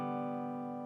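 A single down-strummed guitar chord rings out and sustains evenly for two beats, fading only slightly over a brief moment.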